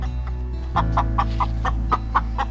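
Chicken clucking near a backyard coop: a rapid, evenly spaced series of short clucks over about two seconds, close and clear over a steady low background rumble.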